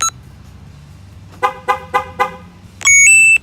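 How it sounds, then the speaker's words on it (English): A car alarm arms, sounding four quick short horn chirps in a row, then a steady electronic tone briefly, loud and close. "To arm the alarm, you can do it from the phone."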